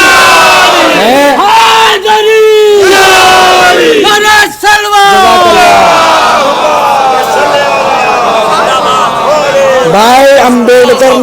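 A large crowd at a Shia religious procession for Juloos-e-Fatimi in Ajmer chants religious slogans in loud, rhythmic call-and-response bursts, voices surging together and repeating throughout.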